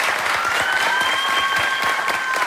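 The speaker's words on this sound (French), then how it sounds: "Vous pouvez l'applaudir." Studio audience at a televised comedy talent contest finale applauding a contestant, steady dense clapping that fills the whole stretch at a loud, even level.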